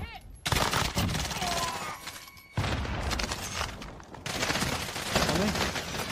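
Call of Duty gunfire: repeated loud bursts of automatic shots across several seconds, with brief lulls between volleys and some background game noise.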